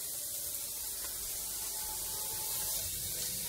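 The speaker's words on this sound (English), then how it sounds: "I'm just wiping off my counters." Kitchen counters being wiped by hand, a steady, close scrubbing and rubbing that runs without pause under a low background hum, with no talking.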